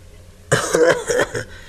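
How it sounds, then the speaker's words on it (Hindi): A short burst of harsh, raspy coughing from an old woman, several rough hacks in quick succession, fairly close, then trailing off. "बुढ़ी खांसती है"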